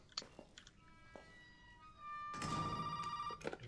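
Telephone ringing inside the Resident Evil 7 horror game on PC, a repeating electronic bell tone that swells loud in the second half, following softer scattered clicks and noises.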